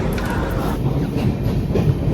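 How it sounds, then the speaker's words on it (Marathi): A passenger train pulls into a railway station on a long-distance journey, its loud, steady rumble and wheel clatter filling the scene close by with no break. "सो फायनली आपली ट्रेन आले"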